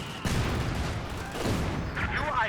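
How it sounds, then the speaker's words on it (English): A mortar strike in the real-time strategy game Company of Heroes 2 lands as a dense run of booming blasts and crackling gunfire, loud and continuous throughout the battle din. "the mortar strike hard there"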